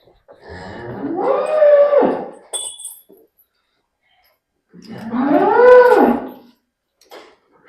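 A buffalo on a village farm gives two long, loud, close moos separated by a few seconds of silence, each call rising and falling in a drawn-out bellow.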